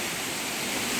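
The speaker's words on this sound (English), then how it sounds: "the waterfall is so noisy" Hidden waterfall on a trekking route roars with a dense, steady broadband rush, loud and continuous for the whole stretch with no voices over it.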